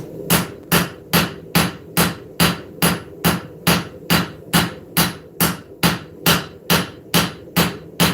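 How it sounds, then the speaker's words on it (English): A straight peen hammer strikes hot knife steel at the anvil in a live forging session. Sharp, evenly spaced metallic blows ring out about twice a second, loud and close, with no speech. "I'm going to thin it out with what we call a straight peen"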